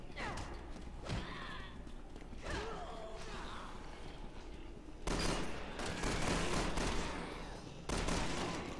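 Gunfire in the video game Resident Evil 6, with bursts of shots and mechanical clatter in a busy, continuous game mix that grows louder in the second half.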